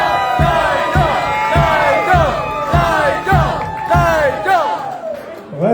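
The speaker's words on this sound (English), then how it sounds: "A big round of applause." A crowd at a polka band's New Year's Eve show cheers and whoops for a band member, with loud rhythmic shouts and rising calls under a voice on the sound system.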